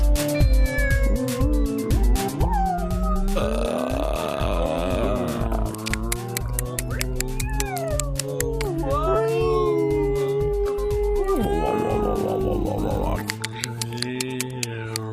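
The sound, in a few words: people imitating whale sounds with their voices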